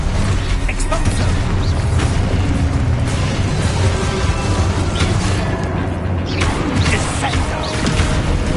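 Spell explosions in the video game Hogwarts Legacy come as loud, repeated booms and crashes over a dense, rumbling mix of combat effects, continuous throughout, with voices shouting through the action.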